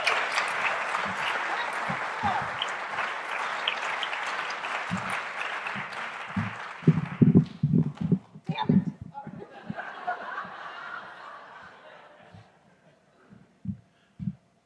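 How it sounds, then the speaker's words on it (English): Audience applause from a crowd greeting a speaker at a talk on children's literacy, loud and steady for about seven seconds, then breaking into scattered claps and fading to silence, with a few late claps. "Big round of applause."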